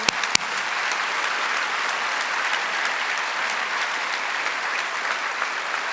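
A crowd at a civic justice assembly applauds continuously, a dense even wash of clapping from many hands after a couple of sharp initial claps.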